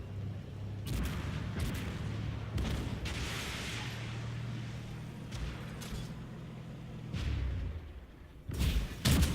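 A Chieftain MkII tank's cannon fires high-explosive shells in a combat video game, with several heavy booming shots set against a low engine rumble.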